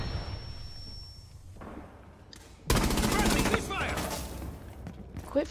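Video game gunfire in a friendly-fire moment: after a quiet stretch with faint sounds, a sudden loud burst of rapid automatic shots starts and continues, with a voice speaking over it.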